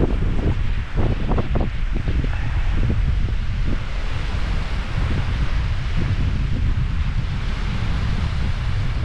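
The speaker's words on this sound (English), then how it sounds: "It's just the wind that's spoiling it" Strong wind blows across a hillside wild-camp tent pitch, a loud continuous roar with buffeting microphone noise and some rustling. It is close and steady for the whole stretch.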